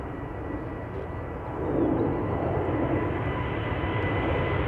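Delta Airlines jet, flight 163 to Minneapolis, spooling up its engines at Amsterdam Schiphol Airport, a steady distant roar that rises in loudness partway through and then holds.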